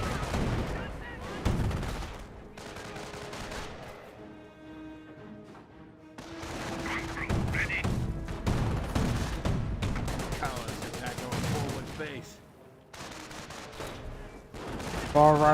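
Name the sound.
gunfire and MG42 machine gun in the video game Company of Heroes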